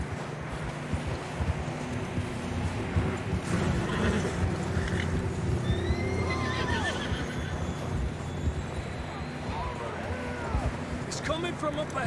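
Horses whinnying and hooves clip-clopping during a ride in a video game, with outdoor wind ambience and character voices talking over the animal sounds throughout.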